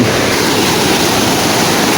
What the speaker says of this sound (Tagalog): Ang ganda ng talon